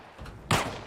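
A single sharp gunshot cracks out, briefly and fairly faint, in the video game Arma Reforger after a short quiet lead-in.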